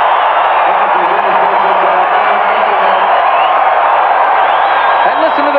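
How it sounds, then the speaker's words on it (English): Football stadium crowd at a 1984 USFL divisional playoff game, Michigan Panthers vs Los Angeles Express, roaring after an interception: a loud, steady wall of cheering for the whole stretch with no break. "Listen to the crowd."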